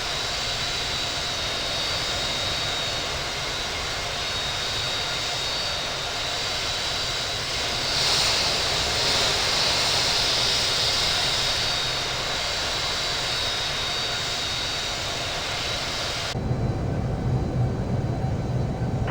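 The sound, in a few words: Southwest Boeing 737 MAX 8 jet engines during takeoff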